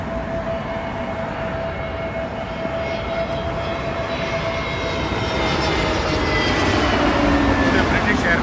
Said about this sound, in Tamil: அடுத்த ஃப்ளைட்டு வரதை நம்ம பார்க்குறோம்.